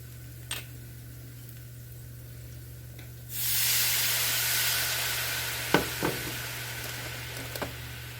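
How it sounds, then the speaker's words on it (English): Marsala wine poured into a hot pan to deglaze it bursts into a loud, sustained sizzle after a quiet start, settling into a steady hiss with a few faint utensil clicks; no one speaks. "let me get a little bit of marsala I can throw on here to deglaze"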